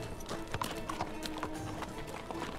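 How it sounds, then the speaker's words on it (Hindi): A horse's hooves clip-clop steadily as it is led away on foot, fairly close, with a faint low background hum and no clear talk over the steps. "आपका घोड़ा ले जाता हूं मैं।"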